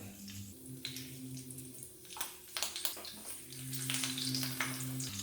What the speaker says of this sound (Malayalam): എണ്ണ നല്ലപോലെ ചൂടായി കഴിയുമ്പോൾ നമുക്ക് കുറച്ച് കറിവേപ്പില ഇട്ട് കൊടുക്കാം